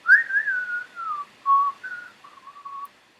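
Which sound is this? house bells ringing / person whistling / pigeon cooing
person whistling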